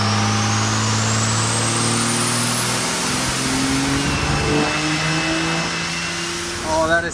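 Diesel truck with a VP44 injection pump and a test turbo at 48 psi of boost makes a near-800-horsepower dyno pull. The engine drones loud and steady, rising in pitch to full throttle before backing off at the end.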